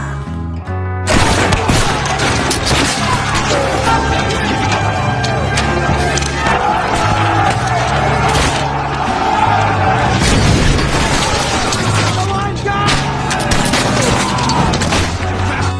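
Loud battle gunfire and heavy explosions roar through a film scene of Texan fighters against the Mexican army, with continuous volleys, booms and crashes layered over a dense soundtrack throughout.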